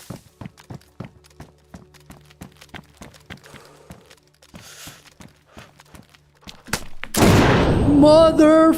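Gunfire in the video game DayZ: a steady run of sharp single shots in a regular rhythm, fairly close, ending in a loud burst of heavy noise with a voice over it.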